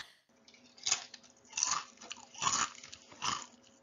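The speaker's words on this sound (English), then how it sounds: "Did my guy just like eat a nacho chip in the background?" Four loud, close crunching bites of a crisp nacho chip spaced about a second apart, each with a sharp crackle and a short chewing tail.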